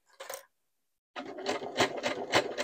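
A sewing machine stitches stretch knit fabric using its standard presser foot, a short whirr of needle strokes, a pause, then a steady rhythmic run of stitching close by.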